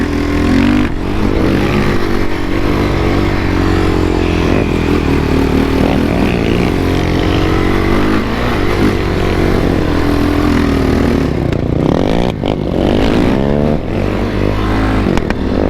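A dirt bike and a Kawasaki KFX ATV ride together on trails near Mexico. Their engines drone loud and close without a break, rising and falling as the throttle changes, with no talk.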